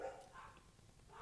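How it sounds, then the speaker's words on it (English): Dogs barking in the background near a building rotunda in San Francisco, faint distant yips and barks in a few short bursts. "I think you might hear some dogs barking in the background."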